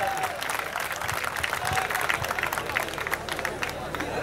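Crowd applause at a Kerala tug-of-war competition, a steady wash of clapping and cheering that runs throughout while an announcer talks over it.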